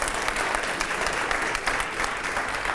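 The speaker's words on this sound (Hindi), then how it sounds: "बहुत जोरदार तालियां होनी चाहिए इसके लिए" Dense, loud applause from a studio audience at a televised political discussion, sustained and even with no voices over it.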